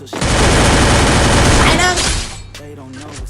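A loud, sustained burst of rapid gunfire in the video game Free Fire, shots fired close and continuously for about two seconds before tailing off into a short voice.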